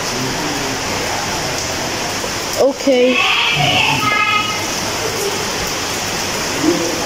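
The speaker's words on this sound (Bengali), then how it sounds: "ভয় পাইস না, এটা বৃষ্টি।" Steady rain pours down as a dense, continuous hiss, with a person speaking briefly partway through over the downpour at a farm with cows.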